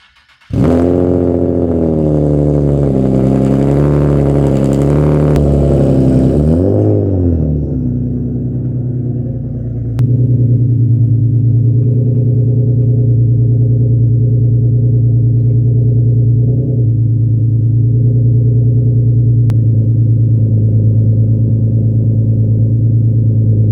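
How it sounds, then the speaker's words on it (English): A Nissan 370Z cold-starts with a sharp catch and loud revving flare, then drops into a steady, deep, rumbling high idle that holds close and loud for the rest of the stretch. "I can hear this cold start."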